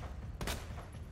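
A single gunshot fired in the survival-horror video game Resident Evil 2, a sharp, loud burst over a steady low game ambience, with no talking.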